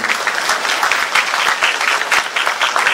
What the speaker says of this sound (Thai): ขอเสียงปรบมือต้อนรับท่านครับ